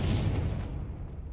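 Confringo blasting curse from Hogwarts Legacy, a single heavy boom that bursts loud at the start and rolls off into a low, fading rumble within about a second.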